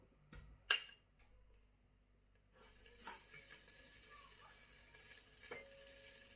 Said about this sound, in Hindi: जी मैंने बर्तन ऊपर चढ़ा दिया, गर्म हो रहा है और जो मेरी स्पीड है वो फुल है। और इसमें हम बटर ऐड करते हैं।